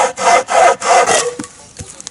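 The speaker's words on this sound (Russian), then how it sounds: "Ручная пила." A hand saw cuts through wood outdoors, with about three loud, rhythmic back-and-forth strokes up close, then the sawing stops and a few faint knocks and rustles follow.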